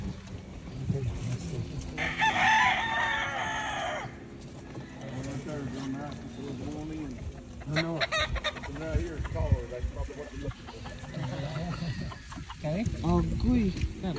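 Rooster of the Hoskins breed on a farm, crowing and clucking close by in bursts, with people talking over and between the calls.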